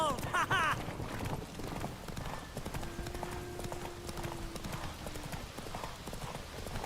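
Hoofbeats of Roach, Geralt's horse in The Witcher 3 video game, clip-clopping in a steady galloping rhythm under game ambience, with a brief voice and a long sustained tone partway through.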